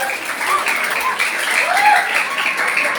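An audience at a Quran recitation festival event claps for a performer, with steady, moderately loud applause and faint voices mixed in.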